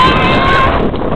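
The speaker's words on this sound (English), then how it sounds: "I thought it wasn't windy. I guess it is." Loud, steady wind buffeting the microphone outdoors, a broad continuous rumble and hiss that fills the whole moment with no break.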